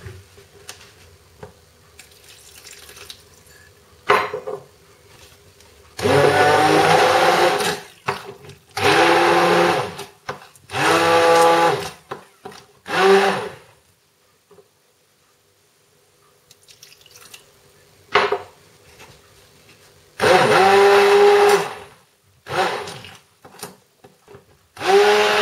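A blender purees hummus in several loud bursts of a few seconds each, with quiet gaps between them where small kitchen sounds and water being added can be heard.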